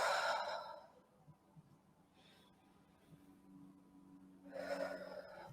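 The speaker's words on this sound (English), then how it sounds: "I invite you to take 4 deep breaths." Deep, heavy cleansing breaths taken in and out through the mouth during a guided group breathing session, with two strong breathy exhales near the start and end and a quieter breath between them.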